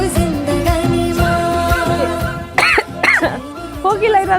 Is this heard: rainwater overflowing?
no